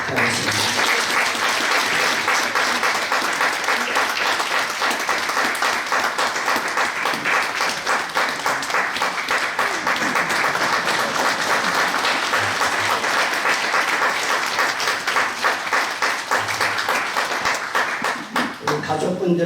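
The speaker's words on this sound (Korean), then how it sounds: "큰 박수로 축하하겠습니다." A congregation applauds steadily at a church ordination thanksgiving service, dense sustained clapping from a large crowd filling the whole stretch, with a voice faintly heard under it.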